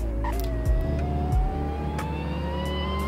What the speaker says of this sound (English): you got a really nice supercharger noise